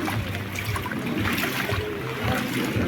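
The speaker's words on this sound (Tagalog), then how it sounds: "Tumataas na naman yung tubig." Rising flood water flowing through a flooded residential street in Bacoor, Cavite, a steady trickling and rushing wash that holds an even level throughout, nearby and moderately loud with no talk.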